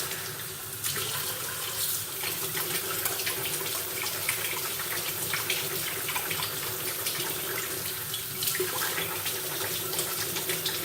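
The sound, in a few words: tap water running over nuts being scrubbed by hand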